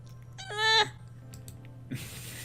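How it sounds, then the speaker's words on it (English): A Siamese cat gives a single clear, fairly close meow of about half a second over a low hum, followed by faint background noise and a soft rustle near the end. "That was the cat."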